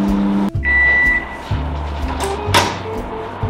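A microwave oven runs with a steady low hum and a thin continuous whine while ghee and a little white oil heat inside for one minute, with a few faint clicks and rattles over the drone.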